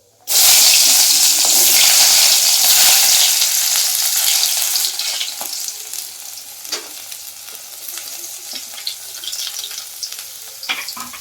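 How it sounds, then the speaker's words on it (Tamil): Onion and curry leaves fry in a pan, with a loud, dense sizzle that bursts in at the start and then settles to a steadier crackle, broken by scattered sharp pops and the occasional scrape of stirring. "வெங்காயம் போட்டு கருவேப்பிலை போடலாம்"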